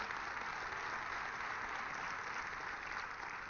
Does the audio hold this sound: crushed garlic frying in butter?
no